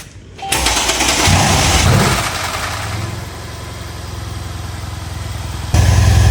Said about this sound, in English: Those are some loud cams.